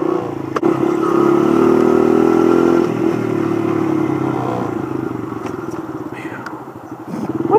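A dirt bike engine pulls away with a loud, close droning roar that holds steady and then shifts pitch as it moves off, with voices over it.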